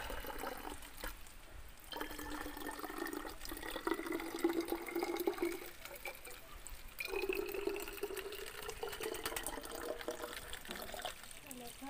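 Mountain spring water from Mt. Lawad river in Bulacan, Philippines, trickles and splashes as a faint, continuous flow, mostly beneath people talking nearby.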